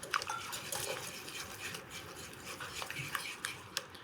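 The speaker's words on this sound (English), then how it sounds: "Use a whisk." A whisk scrapes and rasps steadily through two to three cups of confectioner's sugar in a bowl for pound cake icing, with a continuous close scratching and a few sharper taps against the bowl, no talking.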